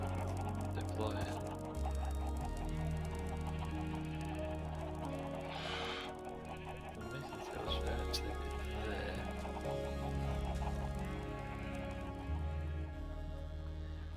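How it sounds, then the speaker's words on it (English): Chickens in the Minecraft video game cluck continuously alongside repeated egg-laying pops, forming a busy, steady layer of game sound with a few horse-like neighs and clip-clops mixed in, all at a constant level under light music. "We've reached the point where not just the clucking is a constant sound, but the laying of eggs is just this ongoing thing"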